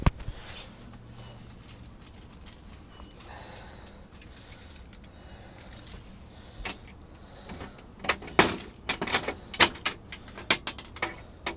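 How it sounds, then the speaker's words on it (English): A set of keys jangling near a door, with faint handling noise early on, then a cluster of sharp metallic clinks and rattles growing louder toward the end. "Got the right set of keys."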